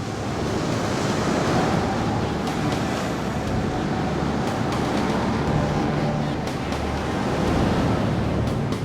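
Steady roar of sea surf crashing continuously on the coast of Scotland's western isles, with gusting wind buffeting the microphone throughout; loud and close, no voices.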